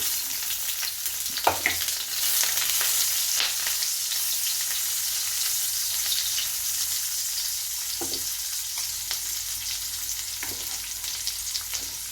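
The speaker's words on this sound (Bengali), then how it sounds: "বাটারটা গরম হয়ে গেছে এবার আমি দিয়ে দিলাম একটু পেঁয়াজ দুটো পেঁয়াজ আমি দিয়ে দিলাম" Chopped onions sizzle in hot butter in a pan while cooking paneer butter masala, a steady close frying hiss with a few brief clatters, no talking.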